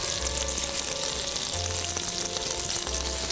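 Pork chops browning in a pan before being simmered in a sweet and sour marinade, a dense, steady frying crackle with a low intermittent hum underneath and no speech.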